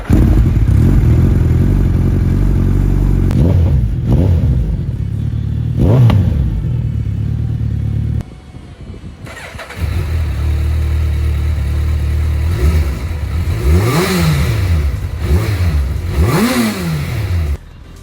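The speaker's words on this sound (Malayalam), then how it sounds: "നമുക്ക് ഈ 2 വണ്ടികളുടെയും എക്സോസ്റ്റ് നോട്ടൊന്ന് കേട്ടു നോക്കാം" Two Suzuki Hayabusa superbikes, one with a full-system exhaust and one with the stock exhaust, idling loudly up close and then revved in several sharp rising and falling bursts, with a brief dip between the two machines.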